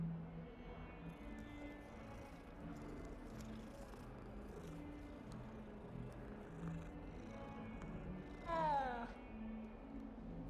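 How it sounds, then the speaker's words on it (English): A cat meowing in the video game Hogwarts Legacy, a short rising-falling meow near the end over a quiet game ambience of low music and faint background tones. "Cat."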